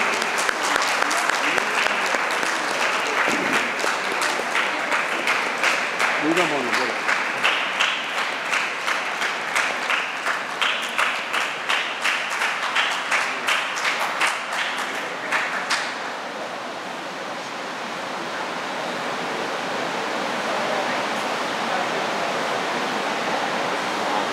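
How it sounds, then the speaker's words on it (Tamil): Sustained audience clapping at a traditional bhajan concert, with dense hand claps filling the room for about sixteen seconds before settling into a softer, steadier wash of applause. "ஜோரா கை தட்டலாம்."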